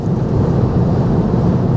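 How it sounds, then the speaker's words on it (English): Wind buffeting a 2018 BMW i3 at 77 mph on the interstate on a windy day, a loud, steady low roar with no speech. "It's very windy today."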